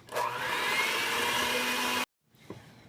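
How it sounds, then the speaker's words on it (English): An electric mixer whirs loudly and steadily while blending flour into cookie dough, then cuts off abruptly, leaving a faint clatter. "mixed it all with the mixer until it started to form into a ball"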